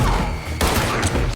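Rapid gunfire from a shootout in the action film John Wick: Chapter 2, a loud, sustained fusillade of shots that bursts in harder partway through, with dense overlapping blasts throughout.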